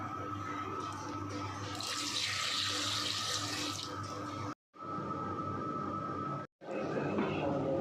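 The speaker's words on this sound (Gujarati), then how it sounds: "ત્યારબાદ આપણે તેમાં પાણી ઉમેરી દઈશું" Water runs steadily from a tap into a pot with salt and peas, ready for boiling pasta. A continuous, close splashing stream cuts off briefly twice, and faint talk can be heard beneath it.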